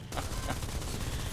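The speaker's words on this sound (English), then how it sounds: "Just use my machine guns" Rapid tank machine-gun fire in War Thunder, a dense continuous rattle of shots heard fairly close, with no pauses.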